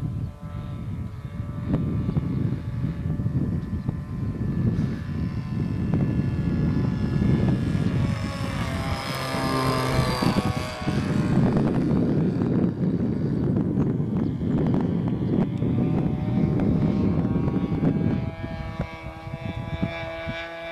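An RC model airplane engine at quarter throttle gives a steady, loud propeller drone for about twenty seconds, with a slight swell in the middle as the plane passes near.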